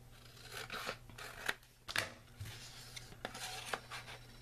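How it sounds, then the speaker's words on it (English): Scissors trimming paper for a thank-you card, several close, quiet snips and soft rustling cuts at an uneven pace, with no talking. "I just got to trim it off a little bit."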